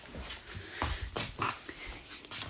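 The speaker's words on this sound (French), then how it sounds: "Woody, c'est donc mon chien qui me suit partout" A pet dog close by whimpers and snorts in short, uneven bursts, with soft nasal huffs and little whines over a couple of seconds in an indoor room.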